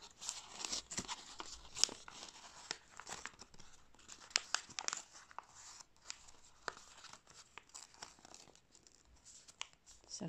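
Origami paper folded into an ox figure, close crisp crinkles and sharp papery snaps in irregular bursts against near silence.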